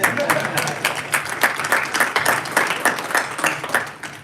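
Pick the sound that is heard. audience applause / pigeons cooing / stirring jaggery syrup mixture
audience applause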